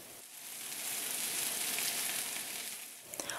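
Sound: enoki beef rolls frying in oil in a pan

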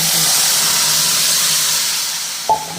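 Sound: cashews and raisins frying in ghee

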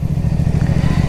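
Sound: CFMOTO 450SRS motorcycle engine while riding

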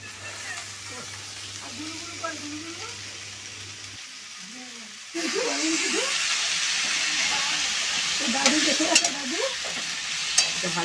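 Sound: potatoes frying in oil

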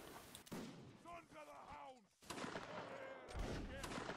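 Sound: musket volley gunfire in Napoleonic Wars video game

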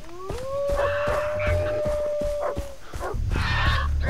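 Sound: dogs howling in video game Far Cry 3

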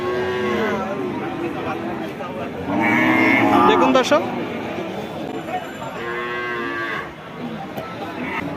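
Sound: cattle mooing at a cattle market

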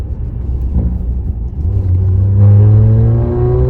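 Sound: car exhaust revving

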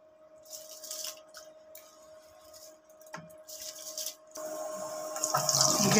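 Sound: rice being added to water in a rice cooker

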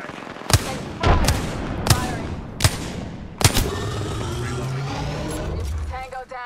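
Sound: gunfire in the video game Apex Legends

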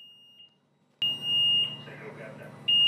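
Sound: warning beeping of closing door

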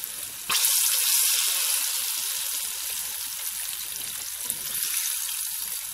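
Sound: chicken frying in a pan

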